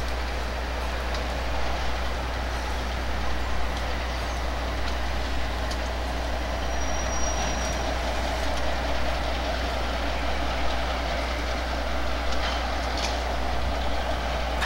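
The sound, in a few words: freight train pulling away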